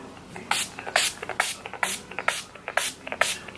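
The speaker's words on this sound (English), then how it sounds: "setting spray" Makeup setting spray pumps out in a quick run of about eight sharp hissing spritzes, evenly spaced and close to the face.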